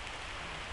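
Steady rain falls in a forest, a dense, even hiss of drops filling the short moment with no other sounds standing out.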